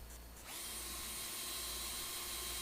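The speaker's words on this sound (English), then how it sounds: "And drill that out." A power drill whirs up after a brief start and keeps running at a steady high pitch, close by, drilling a hole for a motorcycle top case, with no talking.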